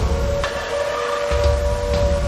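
A Silent Hill style siren plays from a phone in the horror game Picta Mori, a steady droning wail with faint rising swells over a low rumble, with no speech.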